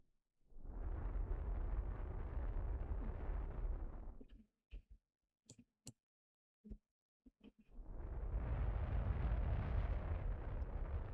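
Staging explosions separating rocket parts in the Kerbal Space Program video game: a long rumbling blast fades into a few sharp pops and crackles, then a second heavy roaring burst swells back in.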